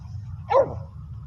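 A single short, sharp dog bark close by, over a low background hum.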